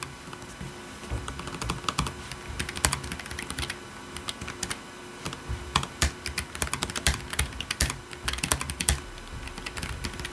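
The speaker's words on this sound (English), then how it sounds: "here's a typing test of what the keyboard sounds like" Fast typing on a computer keyboard, a dense run of crisp key clicks and clacks close up, with brief pauses between bursts.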